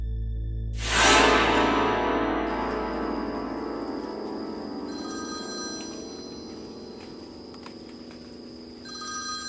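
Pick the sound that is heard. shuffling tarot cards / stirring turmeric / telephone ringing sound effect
telephone ringing sound effect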